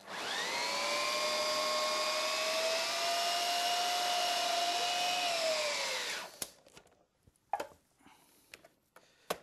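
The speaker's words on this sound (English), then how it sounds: "We're going to blend this just to a puree." An electric blender purees a falafel mixture, a steady loud motor whine that holds for about six seconds and then cuts off, followed by a few clunks and light handling sounds.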